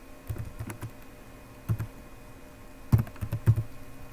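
Keys clatter on a computer keyboard as a password goes in for a SQL Server user, a few short bursts of quick taps separated by pauses, close and crisp, with no talking.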